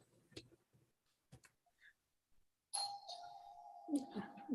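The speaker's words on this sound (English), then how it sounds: "I got a doorbell." A doorbell rings at home, a sustained chiming tone that comes in abruptly after some faint, scattered background sounds and rings clearly and steadily to the end.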